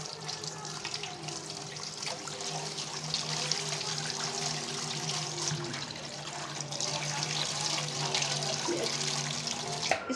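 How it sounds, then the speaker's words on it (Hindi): Raw chicken pieces are rinsed under a running kitchen tap. Water splashes and gushes steadily and close by for about ten seconds, with no talking. "अब मैं इसे करती हूँ वॉश। इसे अच्छी तरह धो लूँगी।"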